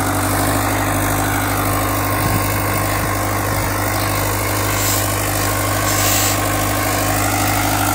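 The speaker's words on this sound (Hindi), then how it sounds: "देखो जी ट्रैक्टर बिल्कुल मजे में अपनी गति मार रहा है।" Standard 450 tractor engine running steadily while ploughing trenches in a field, a loud, continuous low diesel drone with a constant throb and no talking.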